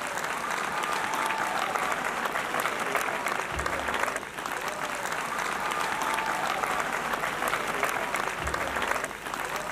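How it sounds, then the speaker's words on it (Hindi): Continuous loud applause from an audience at a turban-tying ceremony, a dense, even patter of many hands clapping throughout, with occasional low thumps and no clear speech. "भरपूर तालियां बजा दीजिए बेटा।"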